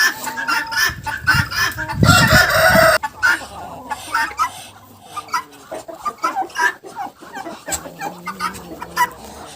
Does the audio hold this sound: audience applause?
no